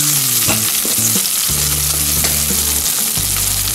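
Green chillies and spices sauté in hot oil for a Kerala-style sambar, a loud steady sizzle with repeated stirring scrapes and clanks of a spoon against the pan, no talking.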